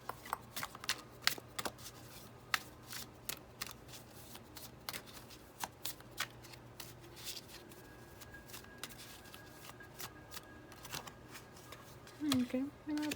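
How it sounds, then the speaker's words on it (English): Oracle card deck shuffled by hand, a run of soft, quick papery riffles and taps going on steadily throughout, close by and fairly quiet, with a brief murmur near the end. "we're gonna also pull from the Angels and Ancestors Oracle deck"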